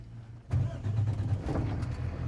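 The front-mounted diesel engine of a 2026 Newmar Grand Star 3444 Super C motorhome turns over and settles into a steady, low rumbling idle, close and continuous with no talking.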